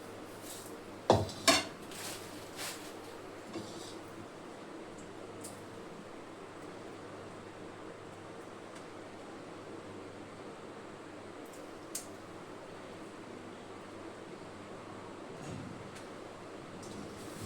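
Fresh mandeli fish are rinsed and cleaned in a vessel: a few sharp clinks of metal at the start, then a steady, quiet wash of water-like noise with an occasional faint knock.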